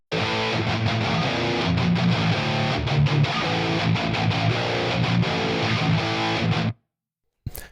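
Heavily distorted electric guitar through a Neural DSP Fortin Nameless amp simulator with a GGD Zilla Studio Cab IR plays chugging riffs for several seconds, then cuts off abruptly into silence.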